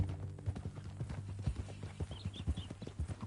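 Horse hooves clip-clop at a steady walking rhythm in Red Dead Redemption 2, close and fairly soft, over a low sustained hum.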